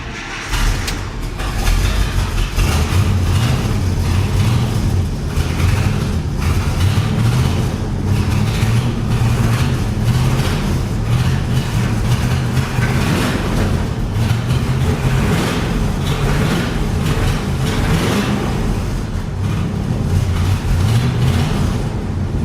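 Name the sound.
International 1110 truck engine starting and idling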